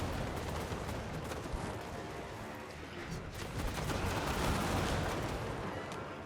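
Dense battle noise in Total War: Warhammer 2 mixes cannon fire firing grapeshot with rolling gunfire and booming blasts, a loud unbroken wall of crackling shots.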